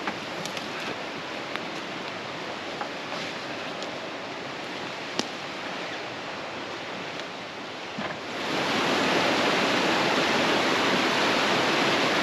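Violent river rapids on the Suomunjoki river in Patvinsuo national park, Finland, at high water, a continuous broadband rushing roar that swells noticeably louder partway through, close and steady.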